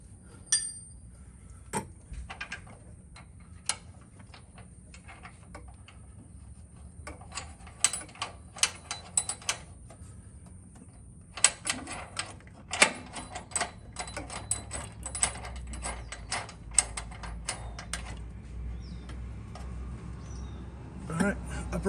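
A ratchet tightens a suspension nut and bolt on an upper control arm of a Toyota Tundra fitted with ICON 3.0 suspension, giving rapid bursts of clicking that come and go over a low background, with intermittent metallic clinks.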